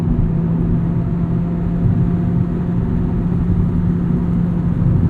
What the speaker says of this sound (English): really you have to rev it out to get the power, and it pulls.